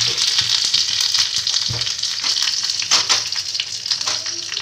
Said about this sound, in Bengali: তড়কা প্যানের মধ্যে তেল দিয়ে দিয়েছি। তার মধ্যে কটা সর্ষে, কালো সর্ষে দিলাম ফোড়ন, আর কটা কারি পাতা